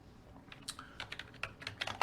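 Typing a command on a computer keyboard, a quick irregular run of close, soft key clicks over quiet room noise.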